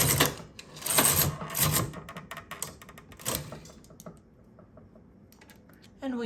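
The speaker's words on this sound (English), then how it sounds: "Knit 2 rows." A knitting machine carriage is pushed across the bed for two rows, making a loud mechanical rattling and clacking sweep that fades to quieter ticks and then stops.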